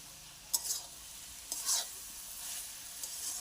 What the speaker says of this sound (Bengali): আবারও ভালোভাবে মিশিয়ে নিচ্ছি।